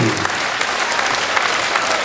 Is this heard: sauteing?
no